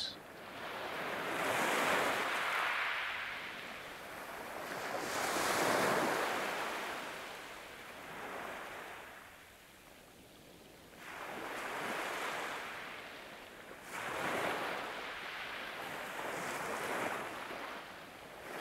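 Ocean waves roll in and break on a beach in slow surges, each swell rising to a loud wash of surf and then fading, with some wind.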